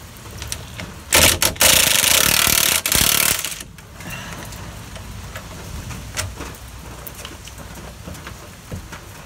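A ratchet wrench loosening a bolt on the lower suspension arm of a Nissan Micra K12 out in the rain, a loud rapid clicking burst of about two seconds over steady rainfall on the ground.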